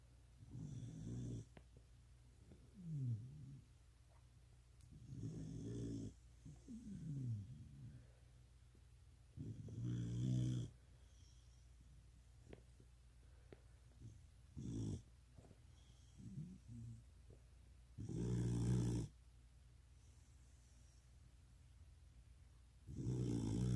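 A pitbull lying on her back snores deeply, a series of loud, rumbling snorts spaced every few seconds with quiet breathing between them in a calm room.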